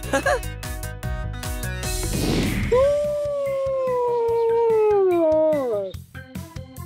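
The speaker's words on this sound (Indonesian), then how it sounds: "Ya, itu adalah serigala melolong." A single long wolf howl in a snowy setting rises and holds a smooth, wavering tone for about three seconds, then falls away. Bright music plays before and after it.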